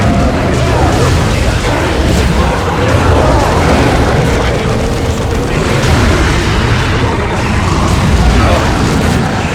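Grenade blast in the Dawn of War 2 strategy game amid loud, dense battlefield din, heavy booming rumble and crackling bursts filling the whole stretch without a break.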